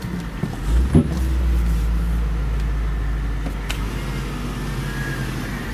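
A 2002 Ford Thunderbird on the move, its engine a steady low rumble with road noise, a brief thump near the start, no talking.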